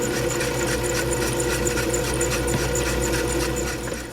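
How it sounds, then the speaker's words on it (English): A Tapmatic tapping attachment drives threads into holes in steel pry bars with a close, steady mechanical whir and faint rhythmic ticking throughout. "I'm going to use my Tapmatic attachment to tap some holes to put the clips on these pry bars"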